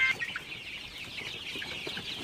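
Sonali chickens clucking on a poultry farm, soft scattered clucks and murmurs from a flock at moderate distance over a steady background hum.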